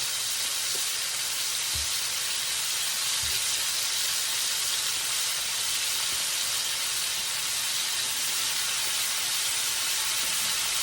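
Steak fries sizzling in a skillet give a steady, close hiss of frying oil that never lets up, with a couple of soft low knocks near the start and no talking.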